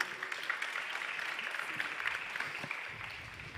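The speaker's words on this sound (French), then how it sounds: "Sous vos applaudissements, s'il vous plaît" An audience at a startup pitch event applauds, a steady wash of many hands clapping at moderate volume that fades slightly at the end.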